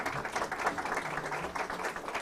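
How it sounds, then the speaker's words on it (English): A crowd at an investment summit in Nepal breaks into a dense, steady round of applause, many hands clapping together close by without letup for a couple of seconds. "Let's have a huge round of applause for this"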